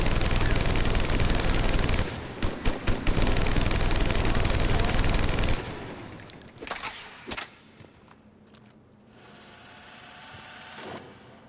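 Typhoon weapon firing in the Mass Effect 3 video game: a dense, loud automatic burst for several seconds, then a few sharper separate shots and quieter trailing fire.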